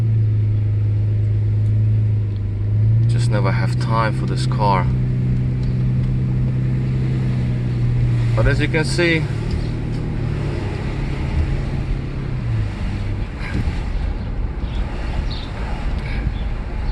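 A Mercedes S600 W140 engine with a loud exhaust rumbles steadily from inside the moving car, rising in a couple of revs while someone talks over it.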